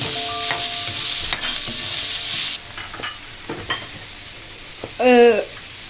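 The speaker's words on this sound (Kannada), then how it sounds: "ಈರುಳ್ಳಿ ಬೇಗ ಒಂಚೂರು ಕಂದು ಬಣ್ಣ ಬರೋಕ್ಕೋಸ್ಕರ ಉಪ್ಪು ಹಾಕ್ಕೊಂಡು ಹುರಿದ್ರೆ ಚೆನ್ನಾಗಿರುತ್ತೆ" Onions with salt fry in a pan with a constant close sizzle, broken by several scraping stirs and knocks of a spoon against the pan, and a short voice near the end.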